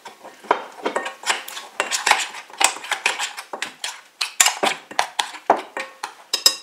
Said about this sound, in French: Et je vais bien mélanger.